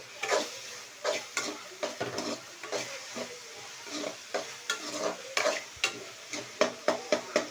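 Onions and tomatoes frying for a fish curry, with a spoon scraping and stirring in irregular strokes over a soft, continuous sizzle, close and fairly quiet, with no talk.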